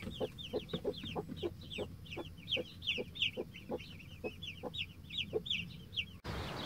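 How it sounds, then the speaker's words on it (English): A broody hen with her newly hatched chicks, soft low clucks repeating steadily while the chicks cheep high and bright in quick clusters, close and fairly quiet. "But the brood hen won't leave her alone for long."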